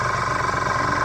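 An airbrush air compressor runs with a steady, close mechanical hum and fine pulsing flutter, continuous and fairly loud with no talking over it.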